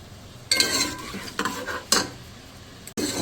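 A large sliced onion frying in a pan for mutton aloo gosht, a steady close sizzle broken by several loud scraping stirs of a spoon against the pan, with no voices.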